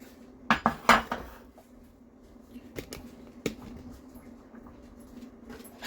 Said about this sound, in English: I've got my giant muffin tin here that I am using